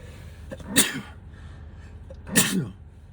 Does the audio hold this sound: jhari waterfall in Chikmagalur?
no